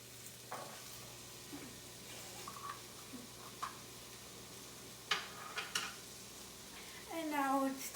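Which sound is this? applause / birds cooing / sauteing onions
sauteing onions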